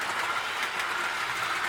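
A small Lionel MPC Stump Dodger model train runs fast on a micro layout, giving a steady, faint rolling whir and rattle with no pauses and no voices.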